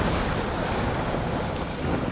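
Strong, steady wind buffets the microphone during a sailing regatta, mixed with the wash of waves in a loud, continuous roar with no talk.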